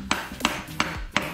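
A hammer striking a large sedimentary rock four times at an even pace, each blow a sharp close knock with a short ring, no voices.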